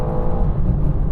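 A BMW M4 accelerates hard down the quarter mile, its engine a loud, close, sustained roar with a rising whine.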